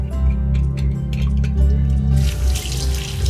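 Fresh tilapia fish being rinsed in salted water under a running tap, with loud, steady splashing and sloshing close by and a brighter gush of water toward the end.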